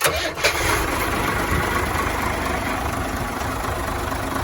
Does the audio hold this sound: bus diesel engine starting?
yes